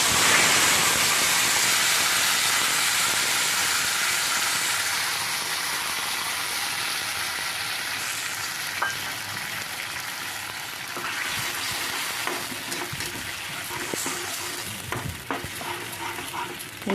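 Ground spice paste is dropped into hot frying masala in a kadai: a loud, dense hiss that gradually eases into a steadier sizzle, with scattered stirring scrapes later on.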